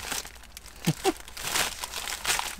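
Snack bag crinkling and rustling close by inside a camper van, a steady papery crackle with a couple of sharper crunches midway, and no talk over it.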